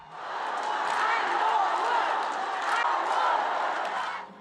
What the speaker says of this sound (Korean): 한동훈 전 대표가 지지자들의 환호 속에 단상에 오릅니다.